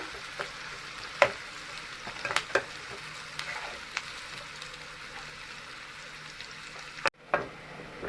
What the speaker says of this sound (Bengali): হালকা লাল করে ভেজে নেবো পেঁয়াজটা।